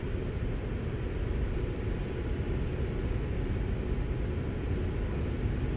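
Airliner engines at full takeoff throttle in the X-Plane 12 flight simulator, a steady loud roar and low rumble that holds without letup, with no voices.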